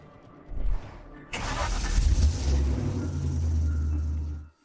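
A car engine starts up and settles into a steady low rumble, running for a few seconds before cutting off abruptly.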